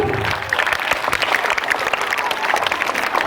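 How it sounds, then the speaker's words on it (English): Applause at a Bharatanatyam dance workshop, a loud, dense round of clapping from the group that continues evenly throughout. "Give a big round of applause for all of you."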